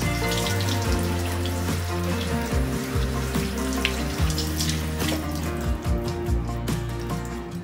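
Running tap water pours steadily over 200 grams of quinoa being rinsed in a kitchen sink, a continuous close splashing hiss lasting throughout, with a melodic music bed playing underneath and no talking.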